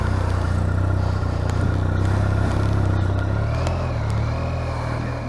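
A BMW R1250RT motorcycle pulls away in first gear, its steady low engine drone rising slightly, heard close and alone.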